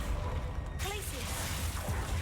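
A Glacius freezing spell cast in Hogwarts Legacy, heard as a sudden whooshing burst with a crackling tail over a busy background of game noise and a voice.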